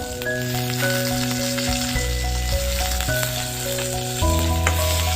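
Brinjal, tomato and onion sauté in a pan for chutney, a steady, close sizzle and crackle running throughout with no talking, while sustained tonal hums sit beneath the frying.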